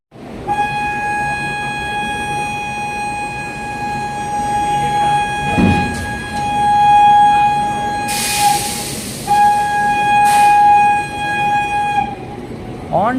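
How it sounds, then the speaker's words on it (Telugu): The 17643 Circar Express pulls out of Chengalpattu station, with a long steady horn tone sounding over a continuous rumble of rail and coaches. "మన ట్రైన్ చెంగల్పట్టు నుండి స్టార్ట్ అయిపోయింది"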